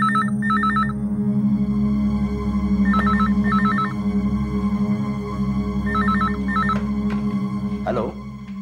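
A telephone rings indoors with repeated double electronic trills in regular bursts, loud and close, over a low background hum.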